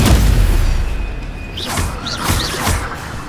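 Stupefy spell cast in Hogwarts Legacy, a loud booming magical blast with three quick whooshing zips over a rumbling low background.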